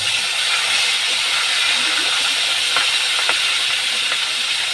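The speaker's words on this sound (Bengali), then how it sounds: "আমি আর এক পিঠ উল্টে দিয়ে ভাজবো।" Boal fish heads fry in hot oil in a covered pan, giving a loud, steady, close sizzle and hiss with a few faint crackles.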